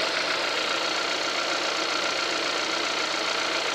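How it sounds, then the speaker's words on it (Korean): A Hyundai Avante AD with the 1.6 engine idles evenly with the hood open, recorded close to the engine bay. It is a steady, smooth hum with a faint ticking texture, heard alone for a few seconds. "엔진 소리 같이 한번 들어보실게요."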